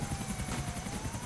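A helicopter hovers in the video game GTA IV, its steady rotor chop pulsing loud and close with a droning engine whine underneath, with no voices.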